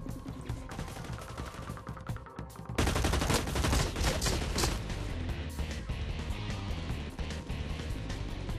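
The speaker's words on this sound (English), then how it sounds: "players tend to panic and go full auto rather than keeping their shots controlled" Full-automatic gunfire in the shooter game Blacklight Retribution, a dense, sustained rattle of rapid shots that jumps louder partway through and keeps going to the end, with no talking.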